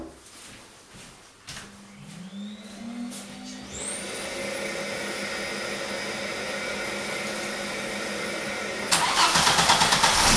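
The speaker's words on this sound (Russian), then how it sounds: "и заводим двигатель" A five-cylinder car engine cranks, turns over and catches, then settles into a steady running hum that rises louder near the end.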